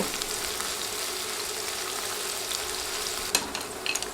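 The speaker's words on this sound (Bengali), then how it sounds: "এখন নেড়ে নেড়ে পেঁয়াজ নরম হয়ে আসা পর্যন্ত ভেজে নিব" Two large sliced onions fry in hot oil with a steady, close, even sizzle, with occasional stirring scrapes near the end and no voices.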